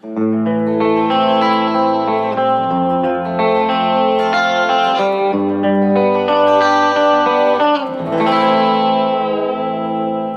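Electric guitar with the humbucker coil-split in the middle pickup position, a Music Man JP6 or Harley Benton Fusion, playing sustained chords and melodic lines, loud and close with effects-laden tone and reverb, no talking.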